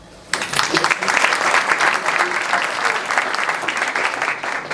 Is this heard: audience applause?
yes